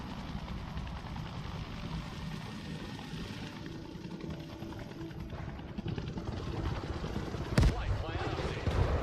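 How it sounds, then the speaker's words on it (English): Military helicopters in the Broken Arrow video game whir with a steady rotor drone at moderate volume for several seconds, ending in a sharp burst. "Okay, we've got the helicopters here."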